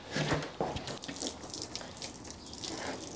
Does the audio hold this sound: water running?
yes